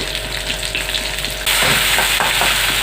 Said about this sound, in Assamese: ব্ৰাউন কালাৰ হোৱালৈকে অকণমান ভাজিম।